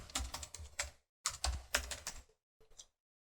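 Computer keyboard keys typed in two quick bursts followed by a short final flurry, close and fairly quiet, with no talking.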